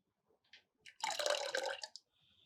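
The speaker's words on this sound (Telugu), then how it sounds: "దీంట్లో కావాలంటే కొంచెం వాటర్ యాడ్ చేసుకోండి" Water pours into a bowl of ragi porridge mix in a short, close splash lasting about a second, preceded by a few faint drips and taps in an otherwise quiet room.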